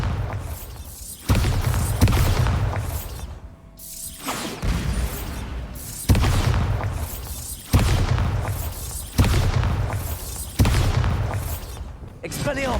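Bombarda spell blasts in the Hogwarts Legacy video game land as a series of loud, booming explosions about every one and a half seconds, each fading away, with a brief lull between.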